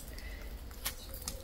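Birds flap their wings inside the green, humid Tawi Atair sinkhole in Salalah, Oman, during the khareef season, giving two or three brief, soft fluttering bursts against a steady outdoor hush.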